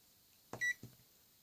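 A multimeter set to continuity gives one clear steady electronic beep while testing the circuit of a pop-up toaster, between two short clicks of the probes or lever, in a quiet room with no talking.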